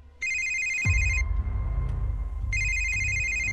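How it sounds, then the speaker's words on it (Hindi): A phone rings in two bursts of electronic trilling, with a low rumbling background underneath. "राम को तभी उसके दोस्त पवन का फोन आया।"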